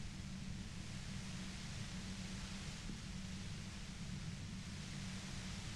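Steady hiss of white-noise static from the video game Disco Elysium, a constant, even wash that fills the whole clip at low level with no talk over it.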